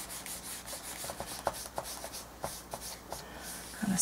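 Paint glaze is wiped off a page in an art journal with a cloth, producing soft, close rubbing and swishing strokes in short repeated bursts with a few light taps, and no talking.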